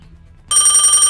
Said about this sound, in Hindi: मालिया साहब को फोन आ रहा है